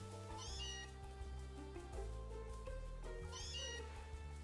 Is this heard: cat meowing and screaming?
yes